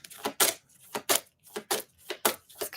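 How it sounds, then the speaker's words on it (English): Oracle cards from a Moonology deck being shuffled by hand, a rapid run of crisp riffling bursts in steady rhythm, close and fairly loud, with no talking over them. "I'm going to keep shuffling."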